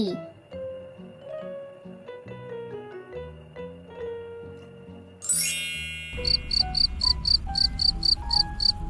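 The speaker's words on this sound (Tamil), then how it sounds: "கிரிக்கெட், பிள்ளை பூச்சி." A tinkling melody plays, then rapid rhythmic cricket chirps pulse over a noisy background, regular and fairly loud.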